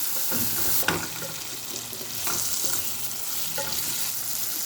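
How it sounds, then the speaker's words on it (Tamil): Chilli powder goes into a pan of sautéed tomato and onion for a coconut curry, producing a loud, continuous frying hiss with rhythmic stirring strokes throughout and no talk. "அரை ஸ்பூனு மிளகாத்தூள் போட்டு கிண்டிக்குவோம்"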